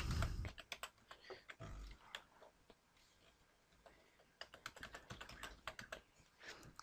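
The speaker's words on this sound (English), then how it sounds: "Then you type in your password again." Fingers tap out a password on a computer keyboard in quick bursts of close, crisp keystrokes, separated by a short pause, with no talking.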